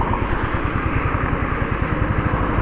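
Motorcycle engine running steadily on a four-lane highway, a continuous close-up rumble with rapid low pulsing and wind noise throughout, no talking.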